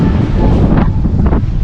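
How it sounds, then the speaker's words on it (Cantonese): Strong wind at a seaside harbour in Folkestone, UK, buffets the microphone in a loud, continuous low rumble with gusty surges and no voices. "有個好大風喺度"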